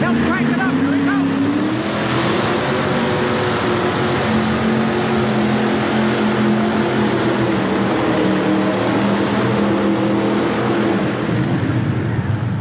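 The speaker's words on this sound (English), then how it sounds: "Listen to that engine as he wraps that engine" At a 1988 truck and tractor pull in Hampton, Virginia, the tractor Poor Man's Pride roars under sustained high revs, loud and continuous, with an announcer talking over it.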